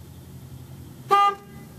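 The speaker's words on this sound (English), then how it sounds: "Watch me honk the horn and see what happens." A car horn honks once, a short loud blast standing alone against quiet idle rumble, close by.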